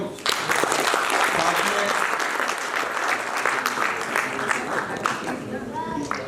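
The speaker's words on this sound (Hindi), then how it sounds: "एक बार जोरदार तालियां।" A theatre audience at a national drama festival bursts into loud, sustained applause, dense clapping holding steady for several seconds with some voices mixed in.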